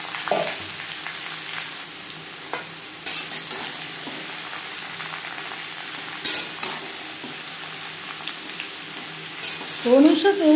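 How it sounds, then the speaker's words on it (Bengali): Ash gourd pieces hit a hot pan of oil tempered with black mustard seeds and a bay leaf, a steady sizzle with stirring scrapes throughout and a sharper burst of frying near the end. "সর্ষে যখন ফুটতে শুরু করে দেবে, সেই পর্যায়ে দিয়ে দেবো চাল কুমড়ো।"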